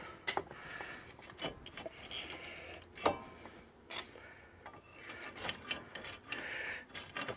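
Brake pads being popped out of the anti-rattle springs on a removed front brake caliper of a Vauxhall Agila 1.2S: scattered sharp metallic clicks and scrapes, close and fairly quiet, with no talking.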